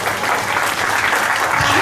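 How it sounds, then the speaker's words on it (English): Students at a class 9 parent orientation break into loud, dense applause, a close and continuous roar of many hands clapping together with a faint hint of voices. "that little group gave the biggest round of applause"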